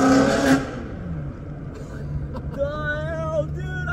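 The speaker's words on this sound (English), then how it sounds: "Traction control kicked in. The tires are spinning." A Ferrari accelerates hard in Japan with traction control active and its tires spinning. A loud roar at the start drops quickly away, followed by a rising engine whine and revving tones as the car pulls off.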